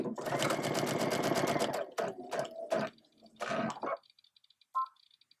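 A sewing machine fitted with a walking foot stitches through layered fabric in a steady, rapid mechanical chatter for about two seconds, followed by shorter stop-start bursts and a few light clicks.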